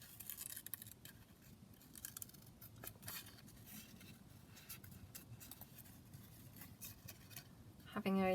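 Quiet, steady snipping of scissors through book-page paper, soft repeated cuts over a low background hiss with no speech.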